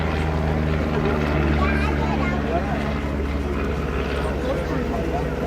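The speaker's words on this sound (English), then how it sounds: "Havilland Canada Chipmunk Jack's displaying for us here today is a perfect example of the basic trainer" A de Havilland Canada Chipmunk trainer flies a display at an airshow, its propeller engine droning steadily at a distance while a commentator talks over it.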